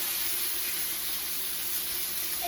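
Pork chops sizzling in a pan with butter, a steady close hiss and crackle filling the whole moment with no talk over it.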